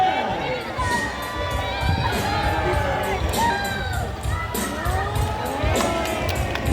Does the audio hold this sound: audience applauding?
yes